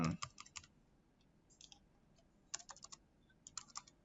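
Keys on a computer keyboard click in quick, close bursts as numbers are typed, with short pauses between the runs of crisp taps in a quiet room.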